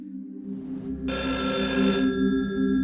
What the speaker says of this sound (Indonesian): Finn mendengar dering telepon di kontrakan Mr. B